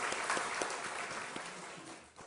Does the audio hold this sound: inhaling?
no